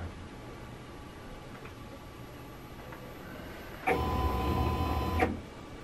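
A plotter or knife cutter jogs along its Z-axis, a short burst of motor whirring lasting about a second and a half after a quiet stretch with faint ticks, then stopping.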